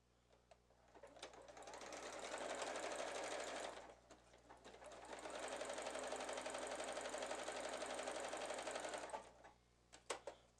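A sewing machine stitches around the neckline of a girl's square-neck sundress in a thread slightly lighter than the fabric, running in two long steady bursts with a short pause between and a few clicks at the end.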